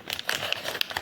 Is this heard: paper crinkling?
yes